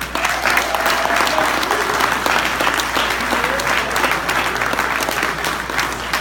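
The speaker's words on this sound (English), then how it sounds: "In all the clapping that we're doing right now" An audience bursts into loud, sustained applause at a motivational talk, a dense wash of many hands clapping that stays steady throughout.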